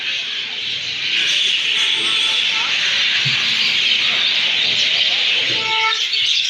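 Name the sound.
crows and birds calling in trees at station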